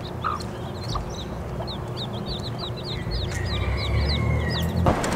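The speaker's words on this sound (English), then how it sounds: "we saw chickens. And baby little chickens too." Chickens and chicks cluck and chirp in repeated short calls over a steady outdoor background in Hawaii, with higher peeping notes mixed in throughout.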